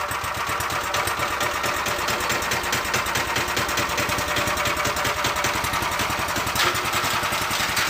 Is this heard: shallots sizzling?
no